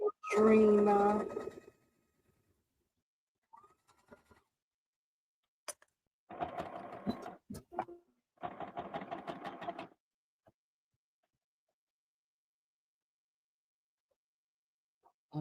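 A sewing machine runs in two short bursts of rapid, even stitching, each about a second and a half long, after someone speaks briefly at the start.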